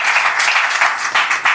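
A church congregation claps their hands together in a steady, fairly loud burst of applause, with rhythmic swells of clapping and no talking.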